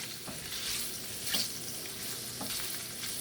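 Cabbage and kielbasa frying in a Lodge enameled cast iron pan, a dense, steady close sizzle with a few soft stirring scrapes from a wooden or silicone utensil, alone without speech.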